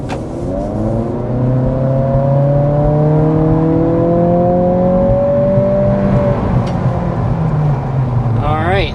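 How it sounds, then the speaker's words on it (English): A 2025 Acura Integra under hard acceleration up to about 60 mph, its engine note climbing steadily through the gears with rising harmonics and a brief shift dip, loud and continuous inside the cabin. "So there we are, accelerating up to about 60 miles per hour with this 2025 Integra"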